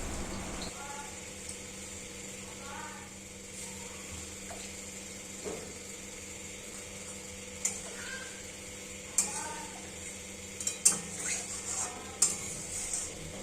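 Potatoes sautéed with spices in a pan, a soft steady sizzle with intermittent scraping and clinking of a utensil against the pan, growing busier toward the end, close and low in level.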